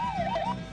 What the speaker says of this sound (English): Kill that siren.